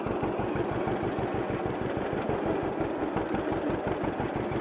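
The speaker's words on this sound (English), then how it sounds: "actually turn the tractor on and show the raising and lowering in operation" A John Deere Model A tractor engine runs steadily with its characteristic rapid, even two-cylinder putt-putt firing, close and continuous with no talking.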